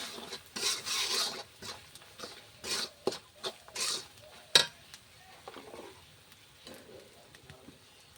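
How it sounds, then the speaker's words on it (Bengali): Spice paste with turmeric powder frying in a pan while being stirred, with bursts of sizzle and scraping strokes in an irregular rhythm and a sharp clink of utensil on pan, close and moderately quiet. "হলুদ গুঁড়া দিচ্ছি দিয়ে রান্নাটা আর মশলাটাকে একটু কষিয়ে নেব দেখো আমি নাড়তে আছি"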